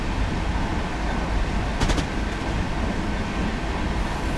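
A Class 66 diesel freight train runs in Train Simulator 2017 with a steady, dense rumble throughout, broken by a brief clattering burst partway through.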